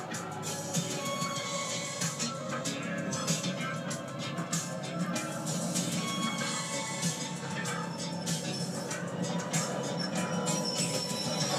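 Train-yard scene from a 1980s film: rolling railway cars with metallic wheel squeals and clanks over a dense, steady bed of film music and mixed sound, loud and continuous throughout.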